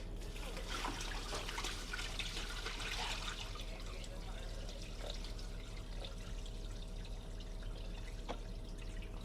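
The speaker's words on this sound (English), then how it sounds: "Let me pour out all this water so I don't, like, spill into it." Water being poured out of a bucket during a family car wash in Las Vegas: a steady, faint splashing trickle with scattered drips running throughout, slightly busier at the start, with no talking.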